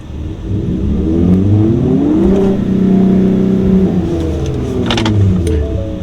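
A 2022 Ford Raptor engine revs hard during a launch from the brake, loud and close, its pitch sweeping up, holding high and then falling away over several seconds.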